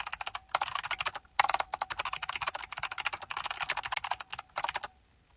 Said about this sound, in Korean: 그럼 이제 제 키보드 소리를 들을 수 있겠죠?